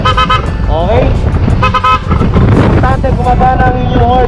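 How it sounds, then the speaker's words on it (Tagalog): A motorcycle horn honks in short, loud, bright blasts at the start and again midway, over steady road noise, with a voice talking nearby. "Importante gumagana ang inyong horn."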